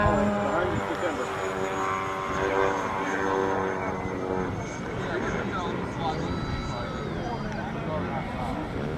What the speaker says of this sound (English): Plane landing.